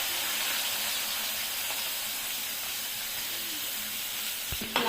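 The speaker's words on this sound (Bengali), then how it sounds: "সেই তেলে আমি পেঁয়াজ ছেড়ে দিচ্ছি।" Onions hitting hot oil for a homemade chicken biryani give a loud, steady hiss and sizzle that fills the space, with a small clatter near the end.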